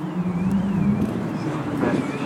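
Autograss junior special cars racing in a final at St. Neots, a steady engine drone heard from a distance beneath continuous commentary.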